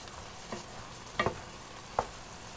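Spicy keto eggs with vegetables cooking in a pan, with a faint steady frying hiss and a few soft utensil scrapes and clinks as the food is stirred and turned, quiet throughout.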